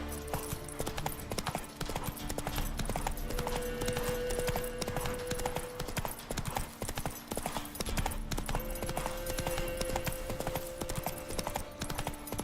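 Geralt's horse Roach gallops in The Witcher, a fast, steady drumming of hooves that runs throughout and stays close and prominent over background music.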